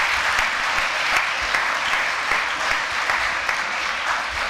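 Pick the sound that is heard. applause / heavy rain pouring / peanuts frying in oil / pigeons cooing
applause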